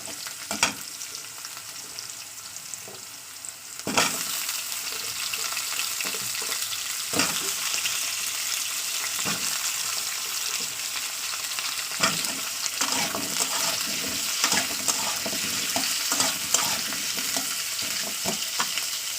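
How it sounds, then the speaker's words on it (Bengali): Potatoes go into a pan of fried onions, and the quiet frying jumps to a louder, dense sizzle that continues with crackles and occasional stirring knocks. "তো চলুন দিয়ে দেবো আলু যেহেতু পেঁয়াজ আমার ভাজা হয়ে গেছে"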